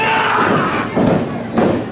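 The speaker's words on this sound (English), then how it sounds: "Hard clothesline. Sweet Daddy hits the mat with a thud." A wrestler is knocked to the mat by a hard clothesline at a wrestling event, giving a few dull thuds amid loud, constant crowd noise in a large room.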